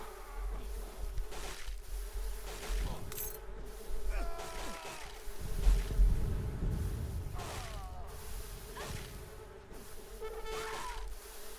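Bees buzz in the video game Age of Empires 3, a swarm of droning, whining wings rising and falling over several seconds, with a rumbling surge midway and brief quiet speech underneath.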